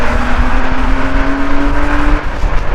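A modified swapped car revving hard with a steady loud engine drone and a rising whine, crackling exhaust pops faintly mixed into the close, continuous roar.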